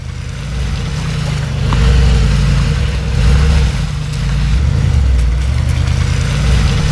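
Off-road vehicle, a G-Class, Jeep Wrangler or Suzuki Jimny, climbing slowly up a steep trail; the engine holds a low, steady rumble with gentle rises in revs, close and continuous, with no talking.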